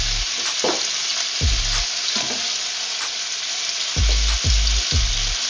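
Garlic sautéing in a hot pan for Filipino pork adobo, a loud, continuous sizzle broken by repeated scraping stirs of a spatula at an uneven rhythm.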